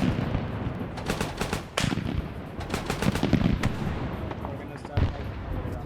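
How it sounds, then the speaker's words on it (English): Heavy guns in a war video game fire in dense, rapid bursts of machine-gun and cannon fire, close and loud throughout, with sharper booming reports standing out above the continuous clatter. "Otherwise, they're utilizing their heavy guns here."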